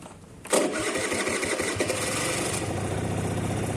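A 12 V scooter engine turns over on the electric starter, powered by a restored 4 Ah battery, catches after a brief crank and settles into a steady, close, moderately loud running idle with no voices.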